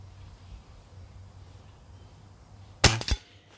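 A Weihrauch HW77 Special Edition .177 (4.5mm) air rifle fires a pellet: one sharp, close crack with a quick mechanical follow-up, after quiet room hum.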